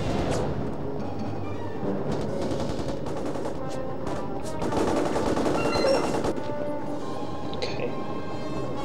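Enemy gunfire in the video game Mercenaries: Playground of Destruction, with rapid machine-gun bursts and scattered shots rattling continuously at close range, mixed with some talk.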